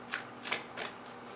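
Tarot cards being shuffled by hand, three or four quick riffling bursts close up, crisp and fairly quiet with no talk.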